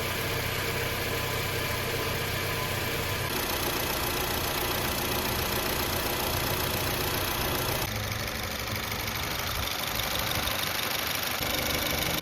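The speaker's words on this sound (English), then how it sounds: "Let's fire it up and see how it runs." A Honda City GM6 engine runs right after a serpentine belt change, a loud, close, continuous mechanical hum with a steady whirring tone that stays level and shifts slightly in timbre partway through, with no talking.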